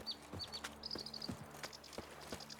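Horse hooves clip-clop in a steady walking rhythm from The Witcher 3 video game, moderately near, with soft chirping birds and ambient game background, and no talk.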